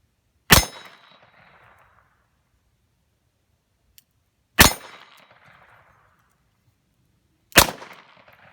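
A WW2-era .38 Smith & Wesson pistol fires three crisp, fairly light shots with short echoing tails and quiet pauses between them. A faint click falls between the first and second shot.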